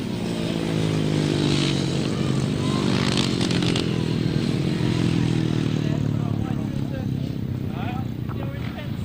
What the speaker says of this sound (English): John Cox obviously kept the throttle on a little longer than he really wanted to as he went over that line trying to take that first place